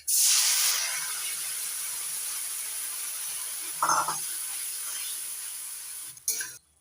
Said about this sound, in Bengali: এবার দিয়ে দিচ্ছি টমেটো পেস্ট